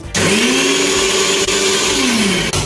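Pointed gourd pulp with a little water is crushed into paste in a kitchen grinder, a loud, steady high-pitched motor whine that starts abruptly and runs continuously before cutting off.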